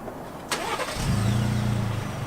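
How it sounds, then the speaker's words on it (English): A 2018 Ford Expedition Limited Max engine, started by remote, cranks and catches after a short click, then settles into a steady idle, close by with no talking. "Push it twice, the car starts up"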